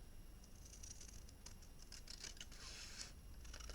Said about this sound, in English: I'm just going to do that with my scissors.